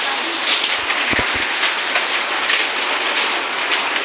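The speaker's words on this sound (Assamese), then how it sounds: "বৰষুণ নাই কিন্তু এনে শিল পৰি আছে।" Hail falling without rain outdoors, a dense, steady patter of ice pellets hitting the ground and roofs, with a couple of nearby knocks.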